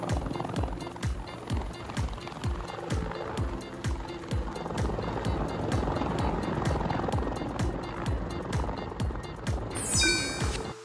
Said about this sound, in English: Rescue helicopter is a specialized vehicle for search and rescue in places with complex terrain